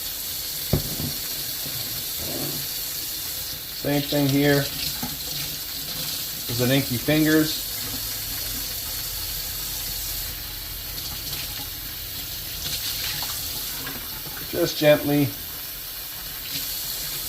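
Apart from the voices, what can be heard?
rinsing plant root ball in running water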